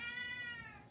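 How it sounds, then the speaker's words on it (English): One short, fairly faint meow from a pet cat, with a bright tonal whine that tails off quickly into quiet room noise. "Yep, that's my cat."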